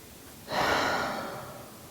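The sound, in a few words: deep breath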